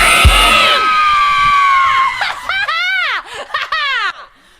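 During a homemade show's theme song, a small crowd screams and cheers loudly: a long drawn-out shriek gives way to several rising and falling whoops and shouts at close range.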